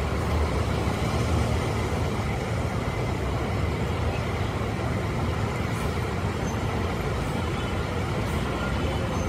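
A bus bound for Malang pulls into a parking bay at the Kampung Rambutan bus terminal, its engine giving a steady, dense rumble with no pauses and no talk.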